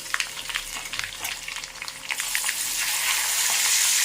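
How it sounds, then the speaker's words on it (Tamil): Crushed garlic drops into hot oil for a drumstick pickle, setting off a crackling sizzle that swells into a steady, louder fry after a couple of seconds. "பூண்டு ஒன்று பதமாக நசுக்கியிருக்கேன் அதை போடுறேன்"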